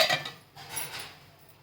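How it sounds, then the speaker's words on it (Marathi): Lid set onto a pan of banana appe cooking on a low gas flame: a bright metallic clink and rattle up close, then a softer second knock as it settles, fading quickly into quiet. "त्याला झाकण ठेवते"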